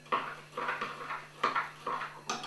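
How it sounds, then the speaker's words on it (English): A spoon clinks and scrapes against a bowl while stirring a lemon and sugar mixture for a lemon cake, with several light, rhythmic taps close by in a quiet kitchen. "Take your lemon and sugar mixture, give it another stir"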